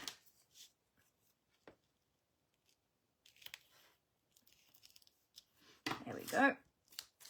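Scissors snipping ribbon and paper for card making, a few faint crisp cuts and light rustling, then a closer burst of handling, with a voice speaking briefly near the end.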